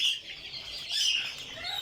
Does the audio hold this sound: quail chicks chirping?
yes